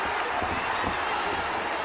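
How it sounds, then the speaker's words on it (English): Boxing arena crowd cheering loudly in a dense, continuous roar during a tense fight moment, steady in volume with no clear individual voices. "The crowd are going wild here, really trying to rally their man on"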